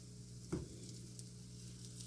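Salmon patties fry in a pan with a steady, close sizzle that runs throughout, broken by one brief louder hiss and spatter as a patty is turned.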